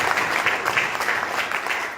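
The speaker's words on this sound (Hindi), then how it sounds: "इसके लिए कम से कम एक बार जोरदार ताली" Loud, dense applause from an audience filling a hall at a Futurenet meeting in Dhanbad, a steady sustained burst of clapping with no gaps.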